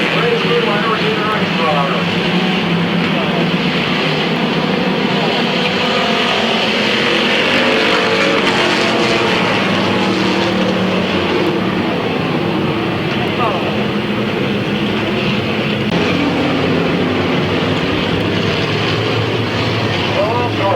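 Race cars lap a speedway, a dense continuous engine roar filling the whole stretch, with a track announcer's voice running over it.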